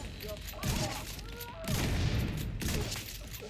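Spaz 12 shotgun blasts in Tom Clancy's The Division 2, two heavy booming shots spaced about a second apart with ringing tails, over game music and a quieter talking voice.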